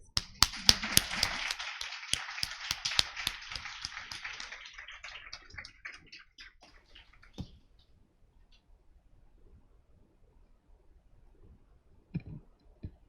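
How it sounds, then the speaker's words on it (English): A conference audience at a closing session breaks into a round of applause, a close, dense burst of clapping that fades out over about five seconds, leaving near silence broken by a few scattered taps and small noises. "I would like for you to join me with a big round of applause for all of you and for the coordinators"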